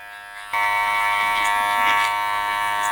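Electric hair clippers buzz steadily while trimming and graduating an undercut haircut, switching on abruptly near the start and then running close and loud with no speech.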